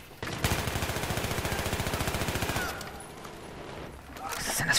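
Rapid automatic gunfire from a weapon in the video game Battlefield 3, a steady rattling burst of about two seconds, close and loud, followed by quieter game ambience.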